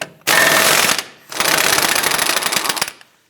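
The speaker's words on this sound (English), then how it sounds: "Using a 30mm socket, we want to go ahead and loosen our axle nut" Impact gun with a 30mm socket loosening the rear axle nut on a 2008-2013 Nissan Rogue, two loud rattling bursts, the first under a second and the second about two seconds long, close and harsh.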